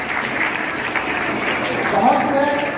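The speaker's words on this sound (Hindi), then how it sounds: "मैं चाहूँगा तालियां बजाइए" An audience of adults and children claps for a student, a moderate burst of applause with voices murmuring beneath it.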